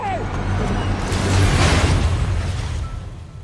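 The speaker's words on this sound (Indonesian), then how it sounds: "helikopter itu pun terjatuh dan meledak." A helicopter crashing and exploding in the Arctic survival film Arctic (2018), a loud rumbling blast that swells and slowly fades, partly under narration.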